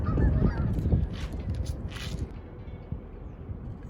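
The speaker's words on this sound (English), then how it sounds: "But today, it's just wind and geese" Outdoors in the wind, geese give a quick run of loud nasal honks close by, and then a few fainter, scattered calls follow as the sound dies away.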